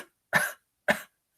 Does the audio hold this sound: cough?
yes